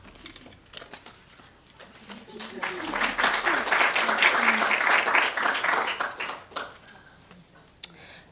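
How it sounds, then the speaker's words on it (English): A museum audience breaks into hand clapping that builds to a full, dense round of applause, then thins out into scattered claps and quiet room noise. "They deserve the hand clapping"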